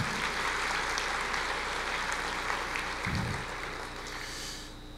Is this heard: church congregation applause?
yes